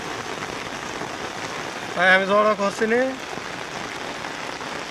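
Steady rain falls on a grassy field where sheep are grazing, a constant close hiss throughout, with someone talking briefly in the middle.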